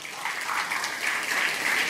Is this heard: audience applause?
yes